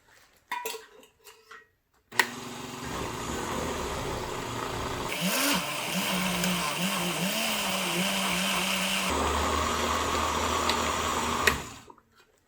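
A kitchen blender whirs continuously as it pulps torn newspaper and water for papermaking, a loud steady motor drone with a shift in pitch partway through before it cuts off.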